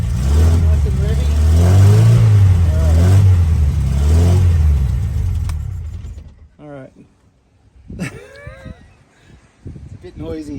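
A 1969 Lotus Europa S2 engine revs loudly and close in several rising and falling surges for about five seconds, then cuts away to quieter mechanical noise while someone talks.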